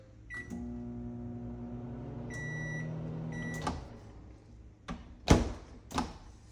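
A Samsung microwave oven hums steadily for a couple of seconds with electronic beeps, then stops, followed by clicks and a door opening with thuds.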